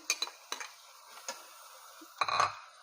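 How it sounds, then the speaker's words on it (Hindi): Onion paste frying in a pan with garlic and ginger, a faint quiet sizzle with a few light clinks and scrapes of a stirring spoon, finishing with a brief louder stir. "ये देखें, हमारा प्याज फ्राई होना शुरू हो गया है।"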